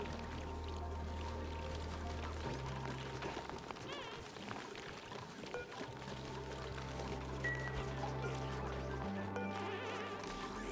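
Polluted water pouring in Oxygen Not Included, a continuous quiet splashing flow over layered game music with steady low tones and occasional clunks.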